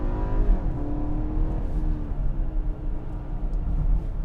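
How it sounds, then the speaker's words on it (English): A 2020 BMW X3 sDrive30i with a 4-cylinder turbo engine pulling away smoothly and accelerating, heard from inside as a steady, rising engine drone with road hum beneath. "It's got smooth takeoff, and then it gives you all the thrust."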